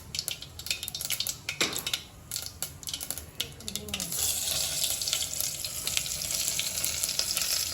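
Stuffed brinjals go into hot oil tempered with mustard seeds and cumin, and a soft sizzle swells into a steady, louder frying hiss after a few seconds of clatter.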